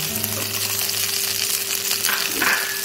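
Chopped tomatoes frying with potatoes for dahi kofta make a steady, close sizzle with a faint hum beneath it, and a brief stir-and-scrape near the end.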